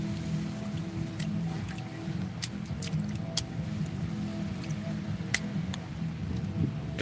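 Rain falling steadily outdoors, a soft continuous patter with occasional louder individual drops and ticks, a low hum underneath and no voices.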